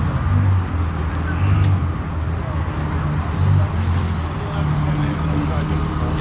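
A Lamborghini backs up at a Cars and Coffee meet in Southlake, its engine giving a steady low rumble that swells and eases, with outdoor crowd noise and voices around it.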